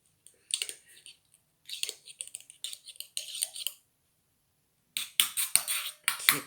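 Spoon scraping and clicking against a bowl of thick homemade roll-on deodorant, close bursts of scratchy strokes separated by short pauses, with a denser run of scraping at the end.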